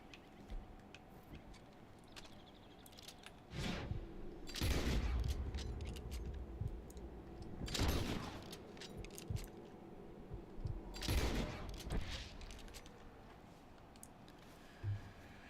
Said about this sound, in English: One of my strongest rifles, besides the sniper ones, and still took 3 shots.